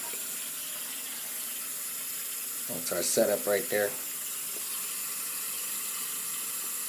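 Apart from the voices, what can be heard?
warm tap water filling a sink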